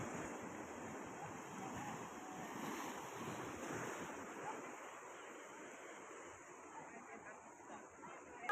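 Sea waves surge and crash steadily onto Mohona beach at Digha, a broad continuous roar with gusty wind noise on the microphone, no voices over it.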